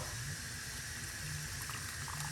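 Water pours steadily into a measuring cup while coriander and lime detox is being prepared, a continuous hissing trickle with faint low gurgles, close and uninterrupted.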